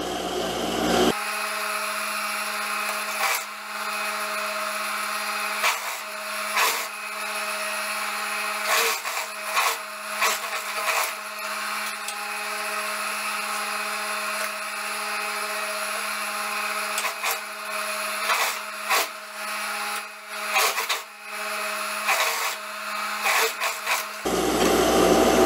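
Sewing machine stitching the side seams of a tulip-sleeve blouse, joining front and back pieces; a steady continuous motor whir runs for most of the span, stopping near the start and end, with small rubbing bursts.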